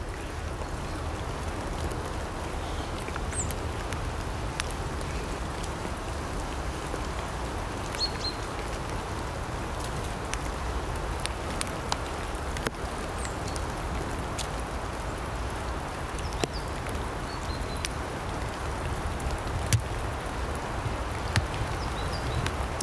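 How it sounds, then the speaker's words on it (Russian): Steady rain falls with a constant soft hiss, scattered drops ticking close by, and a faint bird calls now and then. "Не люблю я такую погоду, когда дождь идет."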